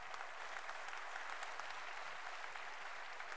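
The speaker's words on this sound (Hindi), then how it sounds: "तालियां बहुत कमजोर हैं आपकी।" Audience applause fills a hall at a Hindi poetry recital, steady dense clapping throughout, moderately loud with no voices on top.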